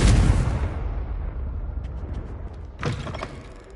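A fiery Confringo spell explodes in Hogwarts Legacy gameplay on PS5, a loud booming blast that rumbles and decays, followed by a second crackling burst near the end.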